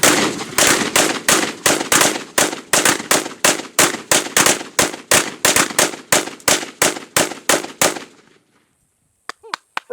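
Rapid gunfire aimed at a computer motherboard, about twenty loud close shots in a steady rhythm for roughly eight seconds, then stopping abruptly, followed by faint high chirps or ringing.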